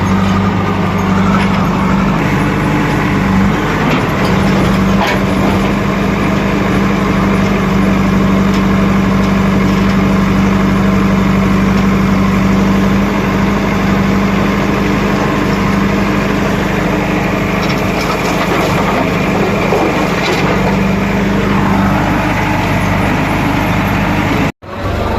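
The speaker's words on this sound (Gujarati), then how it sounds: "અમુક એક ટ્રેક્ટર છે મિત્રો મોડિફિકેશન કરેલ પંજાબી." A modified Punjabi tractor engine drones loud and steady at close range, with an even low throb that runs almost unbroken before cutting off abruptly at the very end.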